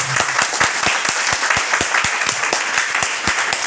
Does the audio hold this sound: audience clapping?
yes